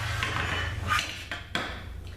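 A spoon scrapes and knocks against a crock pot while thick sea salt and kelp hot process soap is stirred, giving a few short clinks and scrapes over a low hum.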